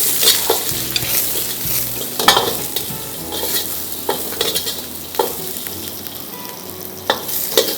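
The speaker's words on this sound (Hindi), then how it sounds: "जी, अब इसको स्टर फ्राई करेंगे।" Vegetables and chopped garlic stir-fry in a hot wok, loud steady sizzling broken by repeated scraping and tossing strokes of a spatula, close up and without talk.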